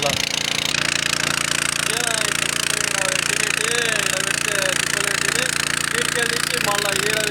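A petrol engine runs steadily throughout, a constant mechanical drone with a knocking, hammer-like rhythm, loud and close, and tonal whines rising and falling over it.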